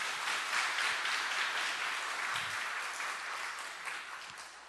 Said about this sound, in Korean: 함께 축하의 박수로 환영하도록 하겠습니다